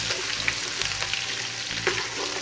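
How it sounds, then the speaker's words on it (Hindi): Ginger garlic paste fries and is stirred in a pan, a steady close sizzle with scraping stir strokes breaking through at intervals, no voices. "मिक्स करते हैं और उसको अच्छी तरह भून लेते हैं"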